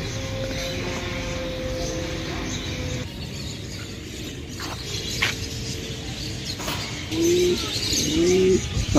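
Pigeons coo in low repeated calls close by, along with some chirping birds over a steady outdoor background, growing louder toward the end, with no voices.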